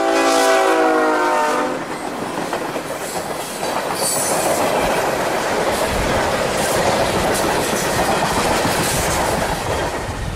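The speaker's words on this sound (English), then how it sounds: "Q742, the Tropicana Juice Train, is running around the tied-down Q452 here at 10th Street" A CSX freight unit train, the Tropicana juice train, running past at 10th Street with two engines and six cars: a loud horn blast at the start, then a steady rumble and rail clatter close by.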